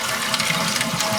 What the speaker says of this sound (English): There's just a small trickle of water